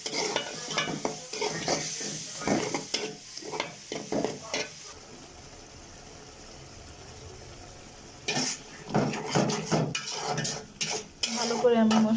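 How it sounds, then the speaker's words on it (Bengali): Onion, ginger, garlic and spices are sautéed in a pan, with a soft sizzle under repeated scraping and stirring strokes of a utensil against the pan, a quieter stretch in the middle, then brisk stirring again. "এখন এটা ভালো করে আমি কষিয়ে নেব।"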